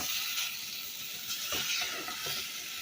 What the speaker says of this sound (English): And now we're just bringing it to a boil.